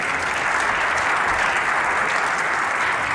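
Audience applauding at the end of a snooker final, the Champion of Champions in Bolton, a dense, steady roar of clapping filling the hall without a break, loud and close.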